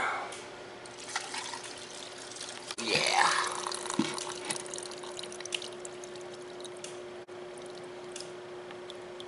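Gasoline poured into the tank of a vintage scrapyard generator from its side, with dirt in the fuel: a short gurgling pour of a few seconds against a quiet steady background hum, and one brief spoken word.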